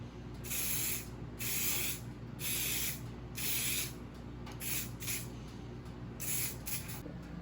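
Hylamar gasket sealant hisses from an aerosol can in a series of short, even bursts, about eight spaced sprays with brief pauses between them, close and clear with no talk.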